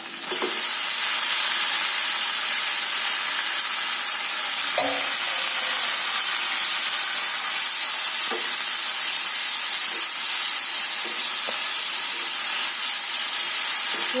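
Moringa leaves fry in hot oil with salt, throwing up a loud, dense, continuous sizzle and hiss that stays close and even throughout, broken only by faint scraping touches.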